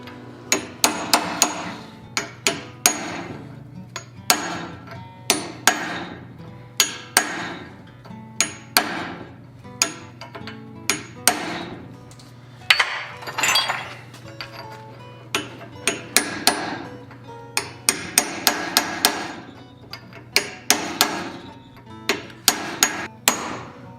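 Repeated hammer blows on a chisel cutting cold steel while forging a Viking axe head, sharp ringing metallic strikes in quick irregular bursts, close and loud with short pauses between runs.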